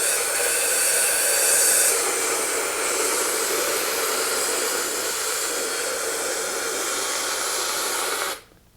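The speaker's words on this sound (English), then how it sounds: "Then you take the cryonite system and you apply the cryonite as we showed before." Cryonite CO2 snow spray blasts in one continuous loud hiss as it is applied against insects, holding steady for several seconds before cutting off abruptly.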